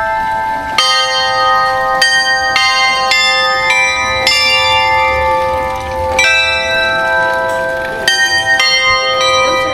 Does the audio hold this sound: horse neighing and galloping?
no